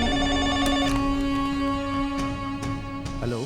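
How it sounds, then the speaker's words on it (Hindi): A telephone bell rings continuously in a steady trilling pattern, loud and close, with no voices over it. "फोन उठाओ।"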